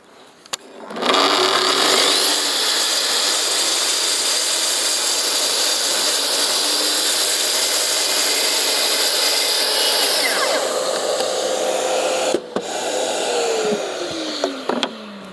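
A power saw cuts wood along a UJK guide rail while building a shelving unit, spinning up and then running loud and steady in one long continuous cut before it halts, restarts briefly and winds down with a few clicks.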